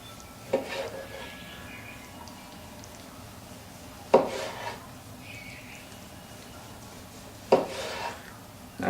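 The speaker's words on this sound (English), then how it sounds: "we'll take the flat and we'll slice some slices off the flat" A knife slices through the flat of a smoked Texas-style brisket on a board, three short separate cuts spaced a few seconds apart over a quiet room, each a brief soft rasp and knock.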